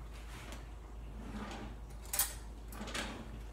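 A kitchen drawer slides open over about three seconds, a quiet scraping rumble with a sharper clack near the middle and another soft bump near the end, close by in a quiet room.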